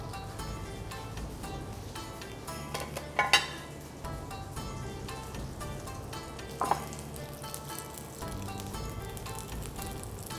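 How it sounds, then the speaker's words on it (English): Steak sizzles steadily as it pan-fries in hot oil, a constant crackling hiss with a couple of brief louder spits and scrapes. "when you're frying any steak, or maybe pan-fried chicken steak or a beef steak"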